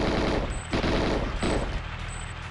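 Rapid bursts of GoldenEye 007 gunfire crackle loudly and densely, with a few short gaps between volleys and a brief high tone chiming over the shots.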